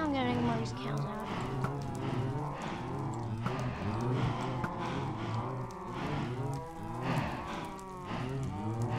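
A crowd of Minecraft cows moo continuously, many overlapping low calls crowding one another, loud and close throughout.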